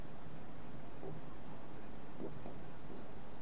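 Short scratchy strokes of writing on a board in a maths class, faint and close, in brief uneven bursts over a low background hiss.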